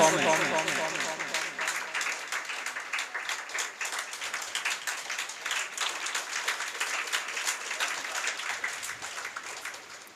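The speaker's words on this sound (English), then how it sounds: "Clap for her excellent performance." Audience at a school Teacher's Appreciation Day celebration claps for a student's poem recitation, a steady rattle of many hands running throughout, with voices mixed in.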